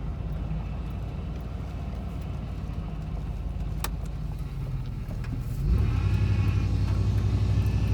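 A car interior drones with road and engine noise, then a steady, thin power steering pump whine from low fluid rises in pitch near the end and holds.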